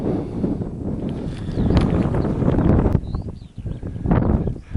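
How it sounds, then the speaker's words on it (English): Strong wind on a sandy beach buffets a camcorder microphone on a tripod, a constant low rumbling roar with gusty surges and brief dips, loud and close throughout. "The wind's a bit too strong, even though I'm pushing the legs of the tripod into the sand"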